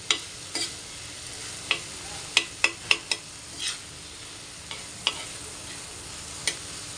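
Egg bhurji being stirred in a pan, with soft sizzling underneath and sharp, scattered clicks of a spatula scraping and tapping the pan at irregular intervals, close and alone without talk.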